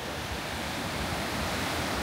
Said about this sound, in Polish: Fale są idealne. Zobaczcie jak się układają